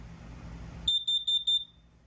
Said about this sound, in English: If you push the button real quick and let go, it's going to give you that little annoying sound.